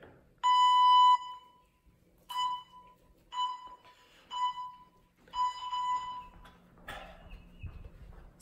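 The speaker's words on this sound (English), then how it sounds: "I'm gonna go ahead and set up a timer here." A workout timer sounds a series of clear electronic beeps: one long tone, then several shorter ones spaced about a second apart, loud and alone in a quiet room.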